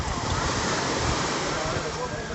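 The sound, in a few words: big sea waves during boat ride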